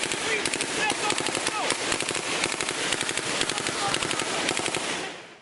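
Sustained small-arms gunfire crackles in rapid bursts during a Taliban ambush in Afghanistan's Korangal Valley. Shots overlap densely and loudly from several directions, and voices shout beneath the firing.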